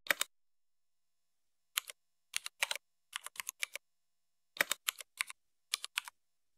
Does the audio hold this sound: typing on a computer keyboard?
yes